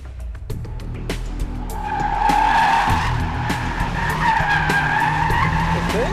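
A 2013 Mitsubishi Evolution GSR brakes hard from 60 mph, its tires skidding and squealing loudly for several seconds under a steady engine roar.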